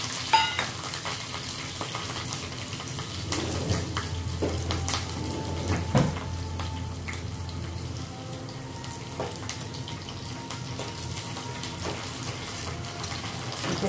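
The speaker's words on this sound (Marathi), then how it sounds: "तर छान असा तडका देऊ आपण" Green chilies frying in hot oil for a tadka, a steady soft sizzle with occasional stirring scrapes and clinks, close and fairly quiet throughout.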